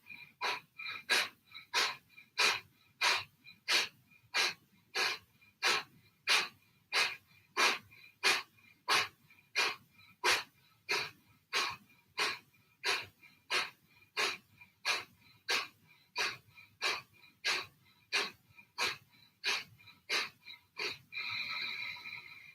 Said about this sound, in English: So take some Kapalabhati breaths now.